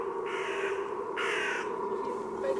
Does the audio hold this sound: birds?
yes